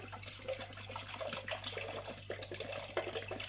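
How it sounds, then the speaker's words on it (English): Water, two to three cups for carrot and orange juice, runs and splashes steadily into a measuring container, a continuous bubbling flow with small irregular splashes throughout. "then I'll be adding water"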